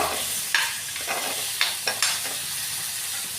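Spiced masala sizzling in a pan for a katla fish curry with ridge gourd, as a spoon stirs it in quick strokes. Steady close frying crackle is broken by about five sharp scraping hits.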